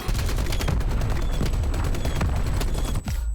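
Rapid bursts of Milano SMG gunfire from Black Ops Cold War, dense and loud, firing almost continuously before cutting off abruptly near the end.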